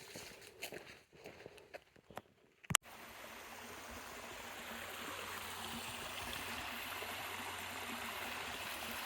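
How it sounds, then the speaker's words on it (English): A creek flows in the woods with a steady, soft rushing of water, and a few knocks and clicks come just before it. The stream wash then carries on evenly and fairly quietly. "Guess I'm walking up this creek,"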